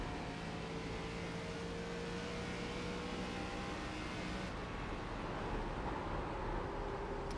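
Race car engine droning steadily through a lap of Rockingham in iRacing, an ARCA stock car holding a continuous loud tone with a shift in pitch midway, no talk over it.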